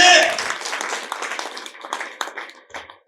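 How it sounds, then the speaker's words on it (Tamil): An audience at a Tamil speech event claps and applauds, loud at first and then gradually thinning out and fading over a few seconds. "கைதட்டுங்க பத்தாது"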